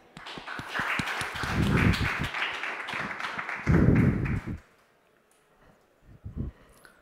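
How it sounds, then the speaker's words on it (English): A conference audience gives applause to welcome a speaker on homomorphic encryption, a loud mix of clapping and heavy thumping that swells twice and then stops, followed by a few stray knocks. "So please welcome our amazing speaker with a big applause."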